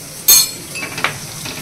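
Flour fries in melted butter in a wok, a soft sizzle broken by a sharp metal clink and a few scrapes from a spoon.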